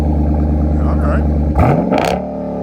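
A car fitted with a catback exhaust idles with a steady hum, then revs sharply twice in quick succession before settling back, close by, while people talk nearby.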